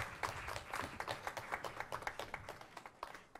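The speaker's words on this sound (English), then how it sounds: "Mr. Kumar Gaurav, please give him a big round of applause." Audience clapping at a school innovation summit panel discussion, a scattered round of applause from a modest crowd, fairly faint and steady with individual claps distinct throughout.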